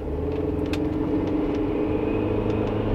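An Audi A4 B7 with a CVT accelerates from a standstill in a 0 to 60 run, giving a steady low engine rumble and road noise from inside the cabin, no talk.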